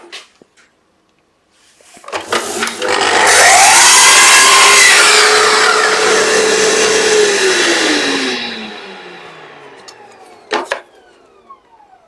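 A power saw trims the edge of a wooden board for a tiered Japanese box, spinning up, cutting with a loud steady whine for several seconds, then winding down, followed by a couple of sharp knocks.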